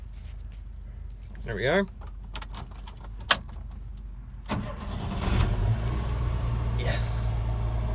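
Keys jangle close by in brief metallic bursts as a driver gets ready to start a 1988 Chevrolet S10 pickup, followed by the engine turning over and settling into a steady idle while someone speaks briefly.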